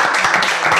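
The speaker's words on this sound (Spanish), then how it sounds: "Un aplauso para el asador" Brief, close clapping from a small group gathered at a family dinner, applauding the person who grilled the meat.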